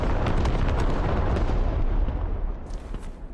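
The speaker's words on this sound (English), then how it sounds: "So you can see the creeping barrage." Dense, continuous rumble of creeping artillery barrage shells exploding in the military shooter Squad, a steady roll of overlapping booms that thins slightly toward the end.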